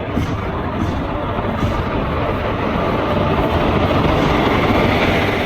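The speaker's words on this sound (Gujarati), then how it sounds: "ટ્રેન ઉપડી ગઈ છે." A passenger train pulls out of a station with a steady, loud, close rumble of rolling wagons that does not let up throughout, and no talk over it.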